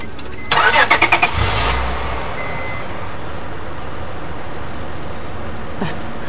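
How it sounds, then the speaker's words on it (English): A car parked by the roadside is cranked: a burst of rapid starter whine and engine catches, then a low rumble that fades to quiet ambience, with a faint click near the end. "Please, can you help me start this car?"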